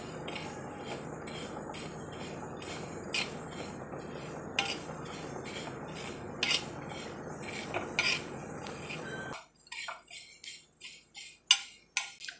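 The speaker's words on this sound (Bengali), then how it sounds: "একদম লো করে রেখে মশলাটাকে ভালো করে রোস্ট করে নিতে হবে।" Spices roasting and being stirred on a hot tawa over a low gas flame for a quick chilli pickle, with steady sizzling and repeated metal scrapes and clinks, then the sizzle cuts out, leaving a few sharp clinks alone.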